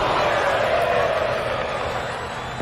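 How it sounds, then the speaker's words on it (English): Crowd roaring in a wrestling video game, a broad, loud sustained cheer that holds steady and slowly eases off, with a voice faintly woven through. "you can hear the roar of the crowd here behind BK"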